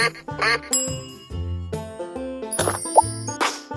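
A short nasal honking goose call sounds in a baby video game over cheerful plinking music, with a few bright pings and a pop.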